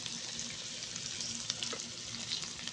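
Kaleji (liver) with chopped masala fries in a pan while being stirred, a steady close sizzle with faint scraping of the spoon through it.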